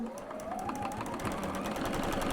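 A sewing machine runs steadily while stitching Santa hat quilt blocks, giving a continuous close mechanical whir with a fast, even needle rhythm and no talk.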